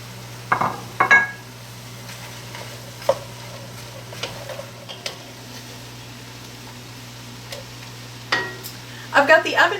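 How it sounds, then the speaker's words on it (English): Vegetables added to a cooking pan for baked chop suey, with soft scraping stirs and utensil clinks over a faint steady hum, spaced out across the clip, while a voice talks. "so we'll go ahead and add our vegetables."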